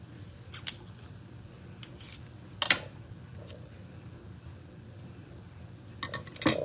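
Scissors snip through white sheer ribbon while a nativity gift tag is being made: a few quick, crisp cuts, fairly quiet against a soft room background, with no talking.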